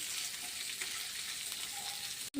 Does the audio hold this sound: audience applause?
no